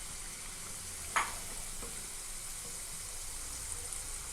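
Potato 65 pieces frying in oil make a soft, steady hiss of sizzling with one brief clink from stirring, faint and even throughout.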